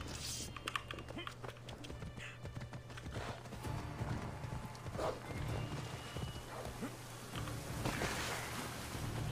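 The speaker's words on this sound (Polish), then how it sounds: "a czy naszego wiernego konia jak zawołamy?" Horse hooves clip-clopping and a whinny from a called horse in Assassin's Creed Odyssey, set over steady game music and ambience with talk present throughout.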